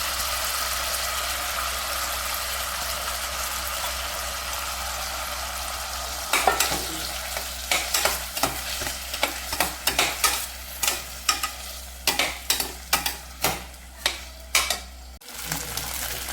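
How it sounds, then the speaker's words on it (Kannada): Rice and carrot fry in a pressure cooker, a soft steady sizzle joined midway by a string of rhythmic scraping stirs of a spoon against the pot, close and fairly quiet, with no talking. "ಕ್ಯಾರೆಟ್ ಜೊತೆ ಇದ್ರ ಜೊತೆ ಅಕ್ಕಿನೂ ಫ್ರೈ ಮಾಡ್ಕೊತೀನಿ"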